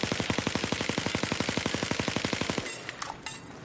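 Rapid automatic gunfire from a weapon in Battlefield 4, a dense, steady stream of loud shots for over two seconds that stops abruptly, followed by a few scattered fainter clicks and echoes.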